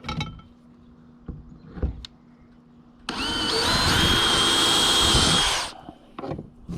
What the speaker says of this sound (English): as I drill through the back bracket